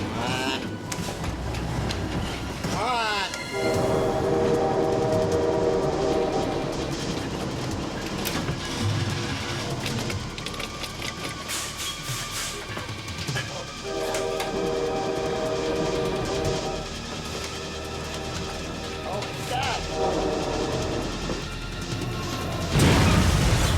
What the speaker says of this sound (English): a train came roaring down the track at just that moment